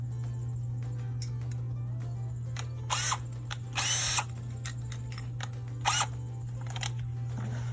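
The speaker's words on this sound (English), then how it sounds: "take my drill" Short bursts of a power drill whine on and off over a constant low electrical hum, with a longer run of drilling through a plastic bucket in the middle.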